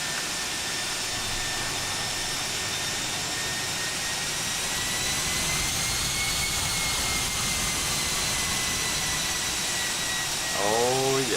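Toliss A319 airliner jet engines in the X-Plane flight simulator, a steady whining hum with high tonal lines while taxiing, continuous and moderately loud, with a faint rising sweep near the end.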